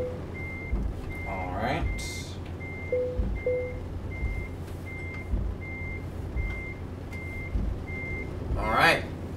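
A truck in Euro Truck Simulator 2 backs up to hitch a trailer, its regular high reversing beeps repeating steadily over a low idling engine rumble, with a few clunks and brief bursts of voice.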